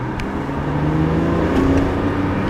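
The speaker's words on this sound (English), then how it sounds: "The car's shifting itself as I drive." A BMW M3 Competition SMG coupe cruising in automatic drive mode, its engine droning loud and steady from inside the cabin, pitch rising through the gears with a slight shift change near the end.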